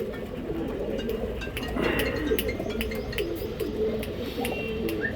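Pigeons coo at a pigeon loft in Pandharpur, several birds giving soft, overlapping throaty calls nearby, with a few brighter clicks and flutters over a steady murmur.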